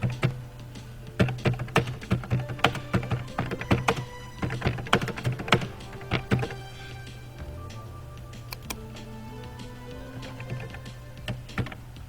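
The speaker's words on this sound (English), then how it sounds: "I'm gonna type input your date and local" Typing on a computer keyboard, heard as irregular bursts of close clicking keystrokes that grow sparser in the second half over a low steady hum.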